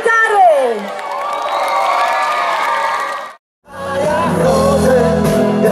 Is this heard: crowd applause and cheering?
yes